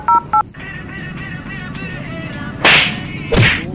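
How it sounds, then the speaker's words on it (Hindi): A telephone being dialed: two short, clear keypad tone beeps sound close at the start, then give way to sharp whooshing swishes over a steady noisy background. "इसके बाप को फोन करता हूँ"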